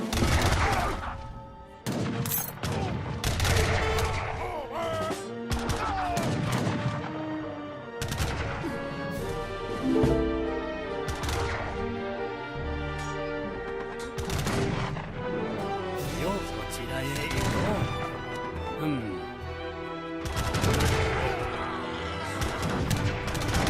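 Gunfire crackles through a skirmish in Age of Empires III, loud overlapping volleys and sharp shots bursting repeatedly over a continuous battle din.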